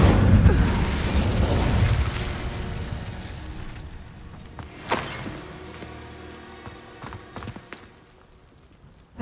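An Incendio fire spell is cast in Hogwarts Legacy with a loud whooshing burst at first, then a sharp impact crack mid-way and scattered clanks as the noise fades.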